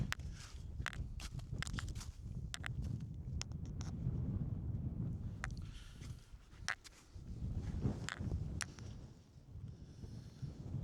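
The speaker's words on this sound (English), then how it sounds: "a bit windy today" Gusty wind in the Highlands buffets the microphone in rumbling surges, with scattered clicks and rustles throughout and no talking.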